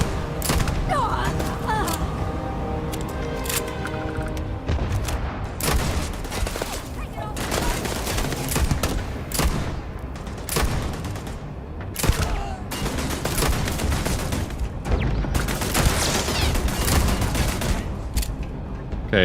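Gunfire rings out in the space game Starfield, with repeated sharp shots and rapid bursts cracking loudly across the whole stretch and spaced by brief pauses and mechanical clicks.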